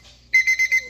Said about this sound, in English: this is a very, very loud alarm clock